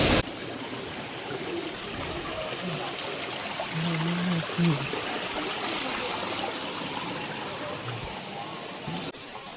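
Steady rushing water of a waterfall at Marleshwar in Konkan fills the whole stretch, a constant broadband roar with a brief faint voice partway through.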